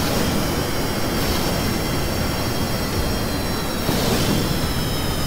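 Spacecraft and aircraft engines in a flight video game, including KF-17 craft, moving into position: a steady, loud, dense engine roar with a high whine on top, continuous for the whole stretch with no talking.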